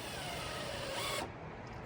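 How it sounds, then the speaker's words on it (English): A power driver sends a 3-inch deck screw into a wooden shelf rail with a short, steady, close whir that drops off sharply near the end. "So I'm putting 3-inch deck screws"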